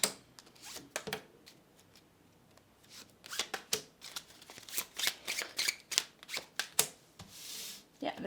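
A deck of tarot cards is shuffled close up in a run of quick papery riffles and flicks, soft at first, then denser and louder bursts, with faint voice sounds at times.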